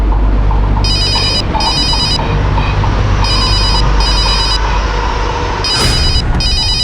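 A telephone rings in repeated double bursts, loud and close, over a low rumbling background.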